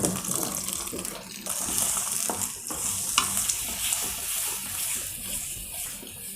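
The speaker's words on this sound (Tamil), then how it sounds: "இது நல்லா கொஞ்சம் கொதிக்கட்டும்." A pan of thick potato masala, with gram flour dissolved in water, bubbles and sizzles steadily, with faint stirring and clatter throughout, close and fairly loud.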